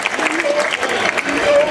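Audience applauding at an Italian music event, a brief burst of brisk, close clapping with crowd noise and a few voices mixed in.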